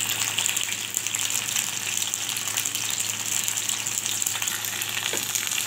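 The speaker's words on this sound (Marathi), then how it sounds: "मस्त तेलामध्ये भेंडी फ्राय होऊ द्यायची चांगली" Okra fries in hot oil over a high flame, giving a strong, steady hiss and crackle that stays close and even for several seconds with no voices.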